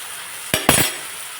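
A spoon stirs eggplant fry in a pan, giving two quick, close scraping clinks in about a second with faint sizzling around them.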